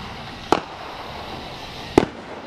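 Fireworks at a farm display go off in two distinct sharp bangs about a second and a half apart, heard from a distance over steady background hiss.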